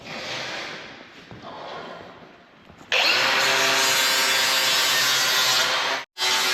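Angle grinder working cut 11-gauge steel pieces in a metal fabrication shop: a duller scraping grind first, then a loud, steady, high-pitched grinding from about three seconds on, broken by a brief cutoff near the end.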